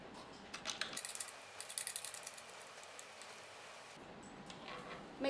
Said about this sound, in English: Then we tighten the screws.